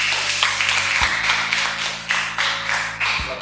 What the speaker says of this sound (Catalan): un fort aplaudiment pels nostres seguidors